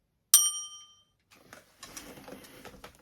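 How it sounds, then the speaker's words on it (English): A single bright bell ding rings out cleanly and fades, followed by quiet rustling and low background noise. "ring the bell"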